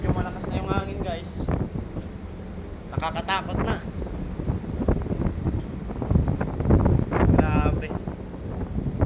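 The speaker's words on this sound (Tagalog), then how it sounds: "Medyo malakas na yung hangin guys." Strong typhoon wind buffets and roars against the microphone in uneven gusts, loud and close, while people talk over it.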